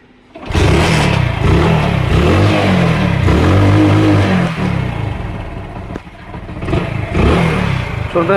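A Hero Splendor motorcycle engine, just refitted with its fuel tank, starts up and runs steadily at close range, its thumping idle rising and falling with throttle blips and no talk over it.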